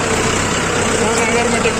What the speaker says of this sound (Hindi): रास्ता बहुत ख़राब है और कीचड़ है रास्ता, इसमें ट्रैक्टर को डालना पड़ेगा, अभी डाल रहे हैं